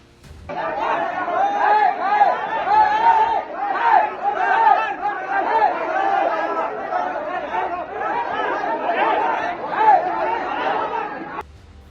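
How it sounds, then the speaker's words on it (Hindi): A dense crowd roars and shouts continuously at a by-election polling booth, many overlapping agitated voices forming a loud, sustained uproar with no pauses. "तस्वीरों में भीड़ का शोर और हंगामा तो यही बताता है"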